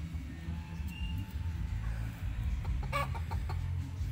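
Farm chickens cluck in short, repeated calls over a steady low rumble of outdoor background noise, with a sharper burst of clucking around the middle.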